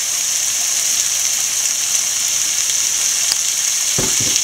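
Shrimp biryani masala sizzles loudly and steadily in a pan as a spoonful of curd goes in, a dense close hiss with a brief bubbling spatter near the end.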